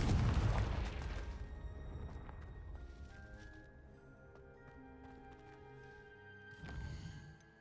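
A Confringo explosive spell blasts in the video game Hogwarts Legacy: one loud, booming burst at the start that fades into a ringing tail, then a second, smaller thump near the end.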